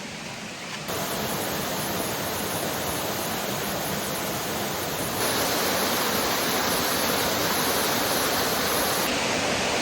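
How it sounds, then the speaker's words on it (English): A waterfall with a proper drop in a secluded hinterland creek roars as a loud, steady, broadband rush of falling water, constant throughout and growing slightly fuller partway through. "so I just got onto the waterfall of the day here"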